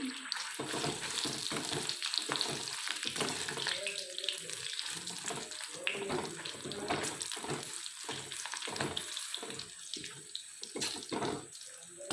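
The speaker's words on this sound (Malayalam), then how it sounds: "എണ്ണ ചൂടായി, മുളകിടാം കേട്ടോ. മുളകൊന്ന് വറുത്ത് കോരിയെടുക്കാം" Steady loud sizzling and crackling of dried chilies frying in hot oil for pickle, with occasional stirring clatter and faint background voices.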